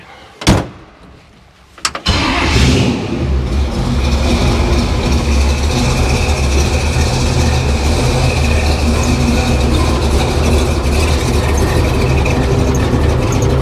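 A hot rod with all new parts and an engine running very rich starts up and settles into a loud, steady idle close by, its low rumble filling the scene after a couple of brief knocks.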